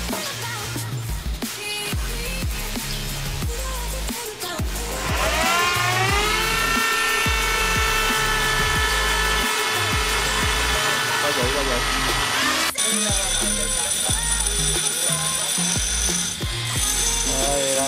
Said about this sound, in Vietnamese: Đây là cái ba ga có được cắt bớt đi và đang khoan lỗ lại.